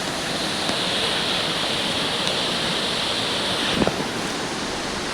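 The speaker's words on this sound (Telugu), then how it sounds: "ఐ థింక్ ఇప్పుడు ఇంకా సౌండ్ వస్తుంది కదా, అంతా కూడా వాటర్ ఫాల్ నుంచి వచ్చే వాటర్ అంతా కూడా ఇక్కడ" Steady broadband rush of water flowing down from Jogini Waterfall near Manali, a constant close roar with a brief louder splash near the end and no voices.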